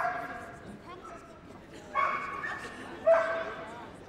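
A Gordon setter barks during a large international agility jumping run at Crufts, two sharp barks in a noisy arena, while a commentator's voice carries on underneath.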